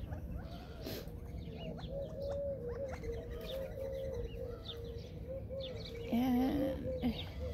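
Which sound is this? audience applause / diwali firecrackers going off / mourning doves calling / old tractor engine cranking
mourning doves calling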